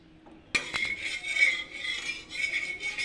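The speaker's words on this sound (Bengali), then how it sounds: "একটু নেড়ে নিচ্ছি যাতে লেগে না যায়" Metal utensil scraping and clinking in a pan as food is stirred after a little oil goes in, a few sharp clinks followed by steady scraping and rattling up close, no voices.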